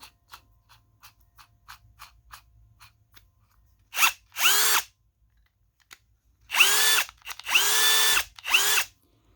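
A Bosch GSR12V-300FC brushless cordless drill whirs in several short bursts, the first brief and the later ones longer, close and loud, with soft clicks and handling noise between.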